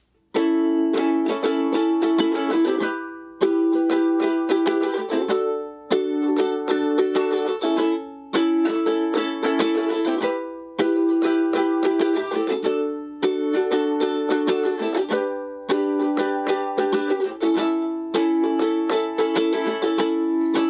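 Steady strummed chords on a ukulele, regular rhythmic strokes changing chords every couple of seconds, close and fairly loud with no voice.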